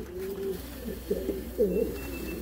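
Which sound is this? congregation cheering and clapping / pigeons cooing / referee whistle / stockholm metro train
pigeons cooing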